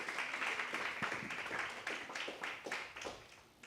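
A church congregation claps hands together in strong praise during a service, a dense run of sharp, repeated claps at steady volume for the whole stretch.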